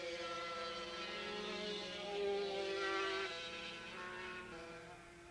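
Super karts race around the 2.5-mile Willow Springs Raceway circuit in 1987, their high buzzing engines droning at a distance and swelling and fading slightly as they pass.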